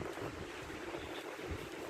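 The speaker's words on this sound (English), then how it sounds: "but it's windy." Stormy wind rushing through woods, a steady broadband roar with gusty buffeting against the microphone, fairly faint and unbroken, no talking.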